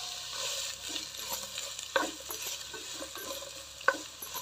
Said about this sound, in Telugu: పొయ్యి మీద ఒక బాండీ పెట్టుకొని నాలుగు టీ స్పూన్లు నెయ్యి వేసుకొని నెయ్యి కరిగాక సన్నగా కోసుకున్న ఉల్లిపాయలు వేసుకొని దోరగా వేయించుకోవాలి